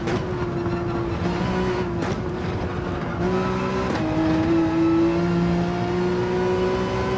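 Race car engines in a racing video game drone steadily, with shifting pitch as cars accelerate and pass and one brief gear-change dip, loud and continuous with no talk.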